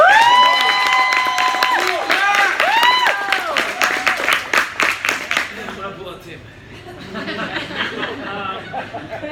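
Audience applause and cheering swell loudly with whoops and crowd chatter, then fade into softer scattered clapping and murmuring voices.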